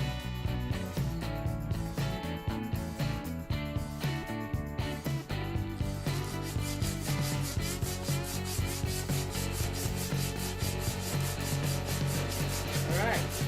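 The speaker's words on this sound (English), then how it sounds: "Now we're sanding it down to get it matched somewhat like the other ones." Sandpaper rubs rhythmically against a wooden dowel in a caboose restoration, loud close strokes that shift to a faster, steady rasping, with no speech.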